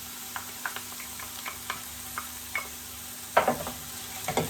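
Celery sizzles steadily in a pan for a lasagna sauce, with repeated scraping and clinking stir strokes and a louder burst of sizzle near the end, close and clear with no talking.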